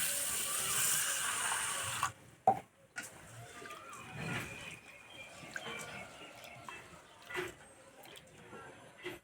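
Small sago pearls being rinsed in water, a brief splashy swish at first, then quiet intermittent drips and light liquid movements close by.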